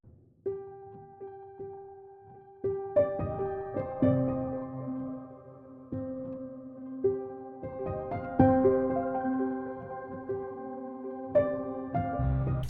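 Soft Westwood Instruments Alt Grand piano notes ring out in a slow, sparse pattern, with faint ambient synth textures shimmering quietly beneath them.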